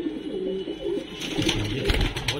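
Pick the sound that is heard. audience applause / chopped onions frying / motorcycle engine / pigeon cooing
pigeon cooing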